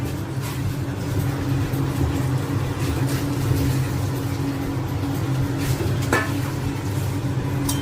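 Paneer is stirred into a simmering, bubbling gravy, with a continuous soft sizzle and scraping stirs heard close and alone for several seconds.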